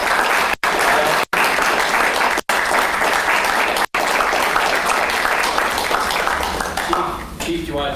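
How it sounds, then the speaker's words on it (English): A council chamber audience breaks into sustained applause, a dense steady wash of clapping that holds for several seconds before tapering off near the end. "let's give a round of applause for"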